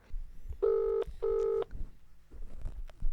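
A phone number is dialed with two long, clear DTMF touch-tone beeps separated by a short gap, followed by faint room noise and low murmuring.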